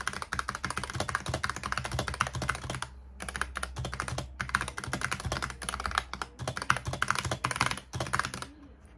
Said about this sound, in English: I'm going to type with a pretty long-ass sentence